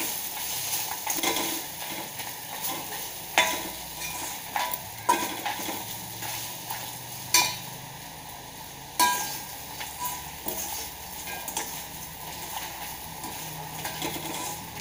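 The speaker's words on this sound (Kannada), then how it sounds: "ಚೆನ್ನಾಗಿ ಮಿಕ್ಸ್ ಮಾಡಿ" Grated coconut being stirred into a frying pan for a wild mango gojju, giving a soft continuous sizzle with repeated spatula scrapes and knocks against the pan, close by and without speech.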